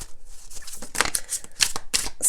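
A deck of tarot cards is shuffled close up in a series of quick, papery riffling bursts with short pauses between them.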